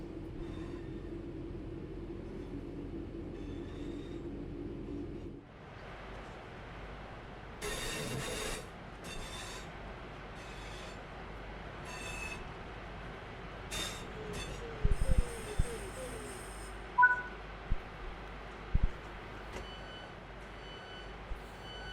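A Glossop to Manchester passenger train runs on the rails with a low steady rumble, then quieter rolling, with scattered clicks, clanks and brief high squeals and beeps building toward the end.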